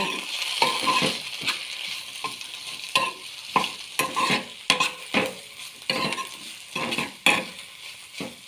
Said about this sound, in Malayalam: ഇങ്ങനെ ഇളക്കി ഇളക്കി ഇളക്കി കൊടുക്കാം